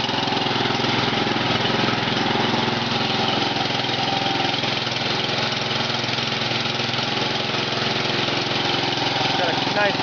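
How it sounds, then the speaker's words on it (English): A Briggs engine with a custom exhaust runs steadily after a cold start, a constant, close, throaty drone with no letup. "Got a nice custom exhaust on it. Gotta have that rumble."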